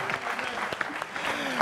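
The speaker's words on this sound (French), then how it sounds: "Applaudissons encore pour Olivier Kisita." A studio audience at a comedy talk show bursts into applause for a guest, a dense, lively clapping that carries on steadily with a few sharper individual claps and faint voices mixed in.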